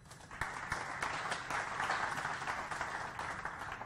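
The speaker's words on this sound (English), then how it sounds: "So Yann from Paymill, some applause for Yann." An audience at an API technology conference applauds as a speaker comes to the stage: steady, continuous clapping from many hands, moderately loud, lasting several seconds.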